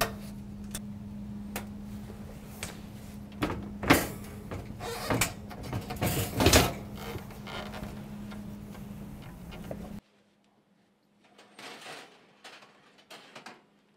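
Wall oven door from a double wall oven being lifted off after its hinge clips are flipped up, with a series of metallic clunks and knocks, louder mid-way, then quieter handling sounds after a brief silence.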